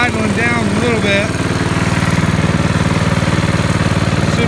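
A small engine on a rebuilt 2-inch gold dredge idles at close range, a steady throbbing pulse that settles lower and smoother partway through; a voice talks over it near the start.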